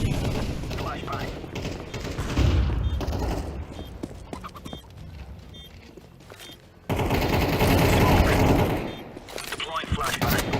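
A tactical shooter video game fills the scene with repeated bursts of gunfire, flashbang blasts and a loud burst of noise partway through, while players talk over the action.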